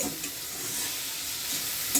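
Green amaranth greens stir-frying in a pan after their water has cooked off, a steady close sizzle with light scraping of the spatula throughout, and no voices.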